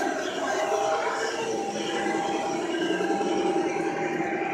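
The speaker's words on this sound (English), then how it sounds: "And you can see the big train." A train rumbles past with a steady, broad mechanical roar and rattling, continuous and fairly close, with faint voices mixed in.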